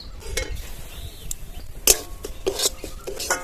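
Semolina tipped from a bowl into hot ghee in a wok brings a few sharp metallic clinks and scrapes of utensil on pan, close up, with quiet gaps between them.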